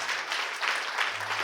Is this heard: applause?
yes